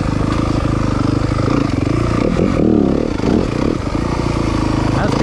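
A 2023 Yamaha 250FX dirt bike engine runs steadily in second gear through a tight trail section, a loud continuous drone with small shifts in pitch as the rider works the throttle, with wind and clatter mixed in.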